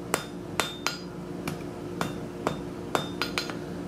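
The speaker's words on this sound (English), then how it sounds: "So I'm gonna go ahead and scarf this end here." Hot steel at welding heat being hammered to scarf the end for forge welding, about ten sharp ringing metallic blows at an uneven pace, close and clear, with no talking.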